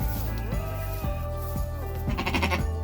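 A ewe that has recently lambed bleats several times in a row, loud and close, with wavering calls repeated every half second or so over a low background hum.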